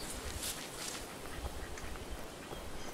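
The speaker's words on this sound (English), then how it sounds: "They're just ducks." Ducks quacking in the video game Where Wind Becomes Quiet, a few muffled quacks over a constant rushing outdoor ambience.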